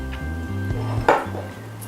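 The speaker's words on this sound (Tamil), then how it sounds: "எல்லாத்தையும் நல்லா கிண்டி விட்டுக்குங்க" A spoon stirs tom yum chicken biryani masala in a metal pot, producing a few scraping knocks and one sharper clank over a steady tonal background, close and fairly loud.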